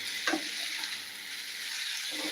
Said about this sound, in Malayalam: ഇത് നമുക്ക് നന്നായിട്ട് ഇളക്കി കൊടുക്കാം കേട്ടോ